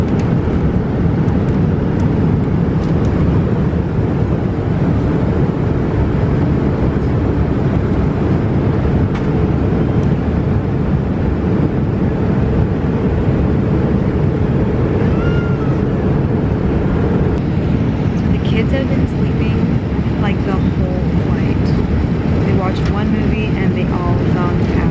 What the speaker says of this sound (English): How is the airplane, Piper?